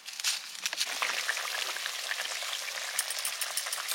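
Tamarind chutney with green chilli and water bubbling in a pan, a dense crackling, sizzling hiss that runs steadily throughout, close and fairly loud, with no voices.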